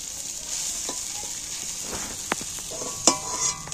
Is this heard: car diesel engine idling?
no